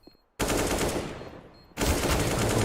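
Rapid automatic gunfire from a wall bang in a Counter-Strike match on Nuke, shooting through cover in two loud, sustained bursts separated by a short gap, with no talk.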